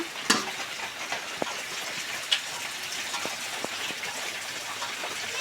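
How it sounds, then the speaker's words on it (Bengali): Banana flower frying in a pan gives a quiet, continuous sizzle broken by a few sharp clicks and pops. "লাল লাল করে ভাজা হয়ে গেছে"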